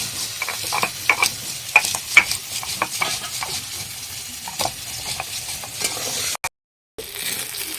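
Eggplant slices fry in hot oil in a home kitchen, a steady sizzle broken by scattered clicks and scrapes of a utensil, with a brief dropout near the end; no one speaks.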